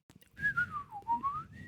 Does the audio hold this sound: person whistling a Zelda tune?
yes